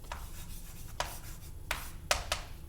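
Faint chalk or marker strokes on a board during a math lecture, five short scratchy taps spread over a few seconds against a quiet room background, with no speech.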